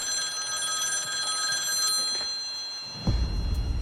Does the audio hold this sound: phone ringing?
yes